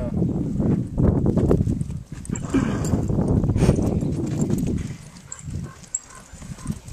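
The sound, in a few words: horse hooves as it is moved around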